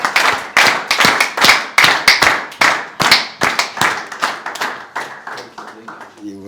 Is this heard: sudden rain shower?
no